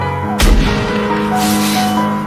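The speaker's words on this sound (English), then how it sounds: "All of a sudden there was a gunshot." A single sharp gunshot cracks loudly, followed by a lingering echoing rumble against steady background noise.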